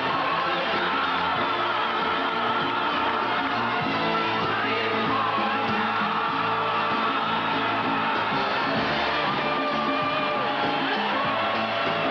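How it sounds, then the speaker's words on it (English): A boxing arena crowd roars steadily as the champion Larry Holmes comes out to face Gerry Cooney, a dense, loud wall of cheering and yelling that holds without a break. "the crowd speaks for itself"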